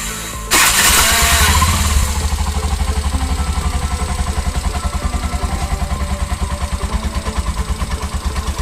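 A Bajaj BS6 motorcycle with timing chain trouble starts up with a loud burst of cranking and revving, then settles into a steady, rhythmic, chugging idle close by.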